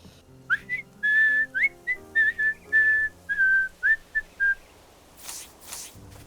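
A person whistles a bright, wavering melody in a run of about a dozen short phrases, close and clear over soft background music, then stops; a couple of brief noise bursts follow near the end.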